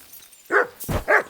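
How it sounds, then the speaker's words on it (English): Dog in the video game Kingdom Come: Deliverance II gives three loud, close barks in quick succession, the middle one rougher and lower, with no talking over them. "You silly doggy."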